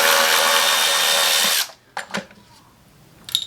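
A power driver removes T20 screws from the top of an M276 V6 engine, whirring steadily and loudly for about a second and a half before cutting off, followed by a few faint clicks and handling noises.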